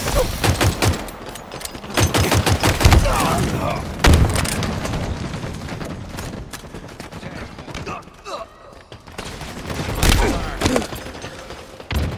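Gunfire and explosions in a capture-the-flag match on the Bazaar map of a shooter video game, with bursts of rapid shots and heavy booms throughout, mixed with in-game voice callouts.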